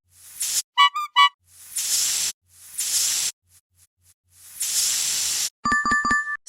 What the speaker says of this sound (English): Sound is tire deflate.